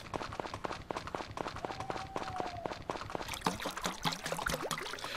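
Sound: watering can being refilled with water, from Story of Seasons video game

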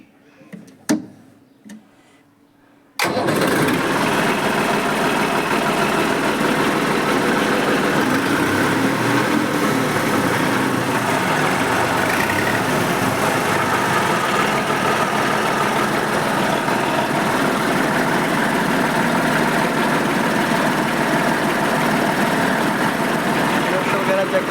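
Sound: 2015 model self-start tractor engine running

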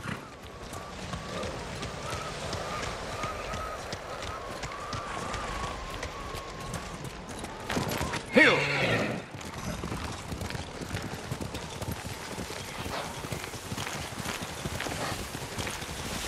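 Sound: horses galloping and neighing in Ghost of Tsushima video game

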